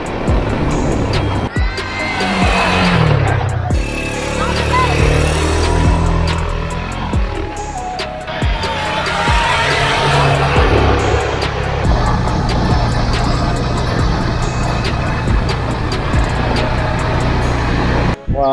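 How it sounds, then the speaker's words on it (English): Quad bike engines run throughout a ride in Hua Hin, Thailand, a loud, close, continuous motor drone that rises and falls with throttle changes, mixed with wind buffeting and occasional brief voices. "are you ready to go on your first ever quad bike ride?"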